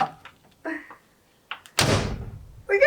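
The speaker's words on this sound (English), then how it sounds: "You gonna try to close the door?" A skoolie bus front door swings shut with one solid thunk, close and loud, between short bursts of voices.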